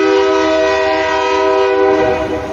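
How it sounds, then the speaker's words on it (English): A train horn sounds as a train comes through historic Jonesborough, a loud sustained multi-tone blast held steadily for the whole stretch and dominating everything else, with no voices. "The train's coming through."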